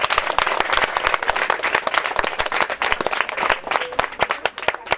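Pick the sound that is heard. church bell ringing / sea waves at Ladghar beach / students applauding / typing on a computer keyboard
students applauding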